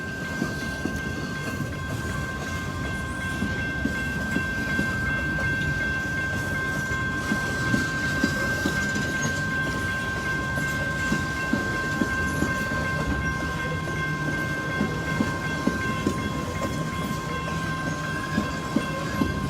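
Norfolk Southern freight train NS 4422 pulls out from the Paducah and Louisville Railway in Madisonville, Kentucky, heading for a coal mine, its steady rumbling roll and clickety-clack of wheels carrying on unbroken beneath a sustained whining tone.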